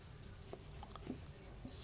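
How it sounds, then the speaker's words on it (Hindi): Faint scratchy strokes of writing on a board in a maths lesson, a few brief soft marks under a quiet room background. "लिखते हैं"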